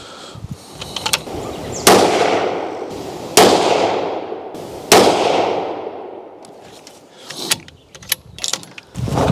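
Three sharp rifle shots from a newly fitted barrel fired through a chronograph, the loud cracks spaced about one and a half seconds apart with decaying echoes, followed by fainter clicks and mechanical handling sounds.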